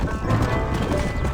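Horse hooves galloping in the Western video game Red Dead Redemption, a dense continuous clatter of hoofbeats close up and loud, with a faint whinny mixed into the rush.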